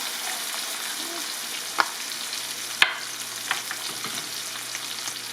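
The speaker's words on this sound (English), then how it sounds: "So we'll go ahead and toss those in there" Chicken leg quarters sear in a hot pan with an even, close sizzle, punctuated by a few sharp pops and clicks, and nobody speaks.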